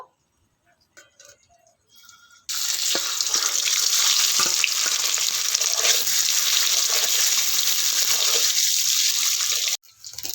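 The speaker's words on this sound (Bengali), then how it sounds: "এবার এই তেলের মধ্যে ডিমগুলোকে ভেজে নেব" Eggs frying in hot mustard oil after potatoes were fried in the same pan, a loud steady crackling sizzle that starts abruptly after a few quiet seconds and continues without talk until cut off near the end.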